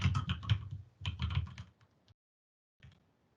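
A password is typed on a computer keyboard in two quick close bursts of clicking keys, followed by a pause and a few final taps.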